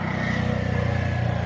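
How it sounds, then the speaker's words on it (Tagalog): A motorcycle engine thrums close by with a fast, even pulsing beat, holding steady for a brief moment with no voices over it. "naglabay pang motor ba"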